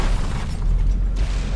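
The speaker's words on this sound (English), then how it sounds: "So many explosions" Deep rumbling booms from battleship explosions in the naval combat game From The Depths, loud and continuous with heavy low-end blasts.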